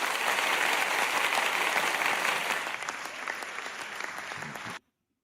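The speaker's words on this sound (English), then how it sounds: "let's get you a little hand clap here" Dense applause sound effect of many clapping hands, loud and continuous, thinning slightly near the end before cutting off abruptly to silence.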